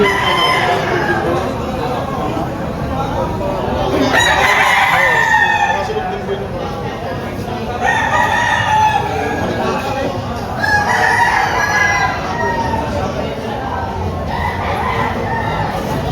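Roosters crow repeatedly at a poultry market in Padre Garcia, Batangas, several long cock-a-doodle-doo calls about every three or four seconds, loud and nearby, with some clucking and background noise.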